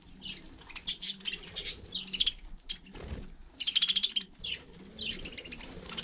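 Budgerigars kept outdoors in snow and frost chirp in quick bursts of sharp, bright tweets, fairly near, with quieter twittering and soft rustling between calls.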